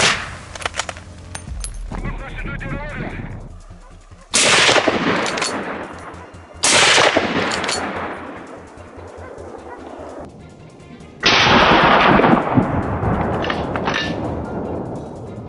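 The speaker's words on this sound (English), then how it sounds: "The gunshot rang out decisively, and the boar collapsed, lying motionless on the white snow." Rifle shots during a wild boar hunt in snowy countryside, several loud, abrupt blasts with long echoing tails, close and dominant, with dogs barking and voices in between.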